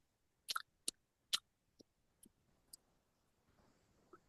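A voice imitates an examiner chewing gum with a series of wet mouth clicks and smacks, a few sharp close snaps followed by softer, sparser clicks, with no words spoken.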